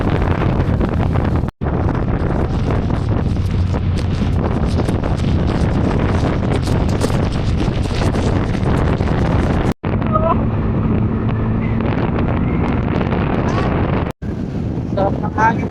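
Loud, constant wind buffeting a microphone on a moving boat in the Philippines, a rough roaring rush with brief dropouts and engine rumble beneath.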